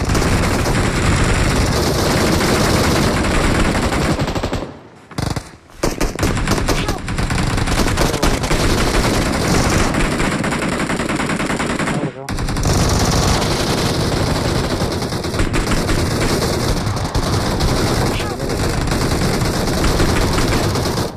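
Gunfire in PUBG/BGMI mobile gameplay on an iQOO Neo 7 Pro phone: loud, sustained bursts of automatic fire and rapid shots, with a brief pause near five seconds and another near twelve.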